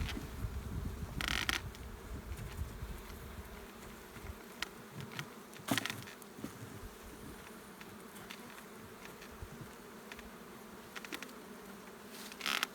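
Honeybees buzz steadily around an open hive during a brood check, a constant low drone with occasional louder bees passing close by and a few brief knocks or clicks of handling.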